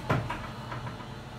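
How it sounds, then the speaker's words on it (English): Door of an Aritco 7000 platform lift in Liverpool opens with a short clunk and latch sound, then a lighter follow-up knock, close by over a steady low mechanical hum with no talk. "we'll get the door open"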